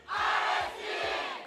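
Esports arena crowd at a Philippine mobile game league playoff match cheering loudly, a dense sustained roar of many voices with rhythmic low thumps underneath, swelling up and holding steady throughout.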